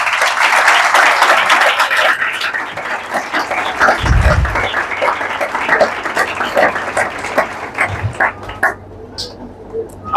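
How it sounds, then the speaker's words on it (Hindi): Congregation applauding during an Urdu-Hindi sermon about Elijah the prophet. Dense, steady clapping fills the hall throughout and fades toward the end, with a few low thumps and some voices mixed in. "अपने यहोवा यरी के लिए तालियां बजाएं।"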